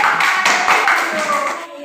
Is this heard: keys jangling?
no